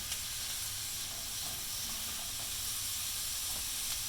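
Onion, carrots, celery and potatoes cook in melted butter in a pot-pie base, giving a steady, even hiss and soft sizzle that runs unbroken and fairly close, with no talking over it.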